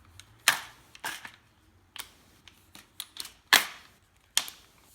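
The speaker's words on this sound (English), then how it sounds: "for reassemble, just want to put your pins back in," AR15 bolt takedown pins pushed back into a rifle fitted with a laminated Boyd's stock: sharp close metallic clicks and snaps in an irregular series of about eight, quiet between them, no speech.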